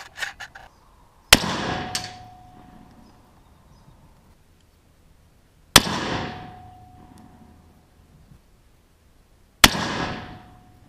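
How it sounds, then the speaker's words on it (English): A CVA cap and ball black powder rifle fires three loud, sharp shots spaced several seconds apart, each booming and decaying with a ringing tail, with near silence between them. "we'll do some shooting"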